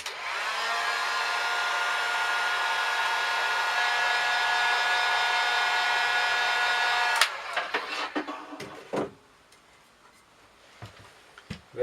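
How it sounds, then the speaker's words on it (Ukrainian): A hair dryer blows steadily and loudly for about seven seconds while heat-shrinking a capsule onto a homemade wine bottle, then cuts off and is followed by a few light clicks and handling noises. "за допомогою фена запаюємо пляшку з домашнім вином"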